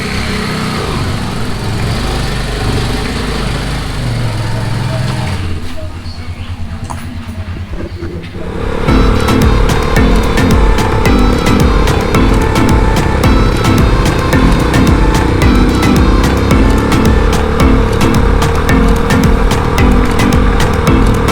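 Motorbike engines idling and running outdoors on a ride out near Minca, Colombia: a steady mechanical drone that dips quieter for a few seconds, then returns louder and busier with a second engine running close by.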